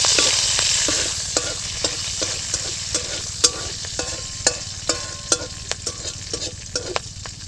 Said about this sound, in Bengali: আর দেব একটু সর্ষে আর একটু কারি পাতা এটা হচ্ছে চাটনির তড়কা একটু ভালো করে ভেজে নেব